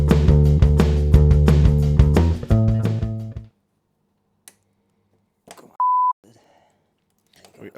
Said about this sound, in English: Are we going to have bleeps in this video?